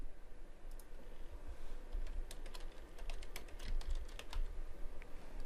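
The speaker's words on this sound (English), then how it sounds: "Simply type in your student login" Quiet, scattered keystrokes on a computer keyboard as a student login is typed, with soft clicks over a faint steady room hiss.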